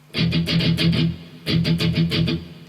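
Electric guitar playing a riff, two bursts of quick, evenly picked open and palm-muted notes separated by a short gap, close and clear.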